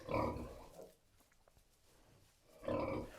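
Several piglets on a small farm give short, soft grunts between louder bursts of nearby animal noise at the start and end, with quieter shuffling in the middle.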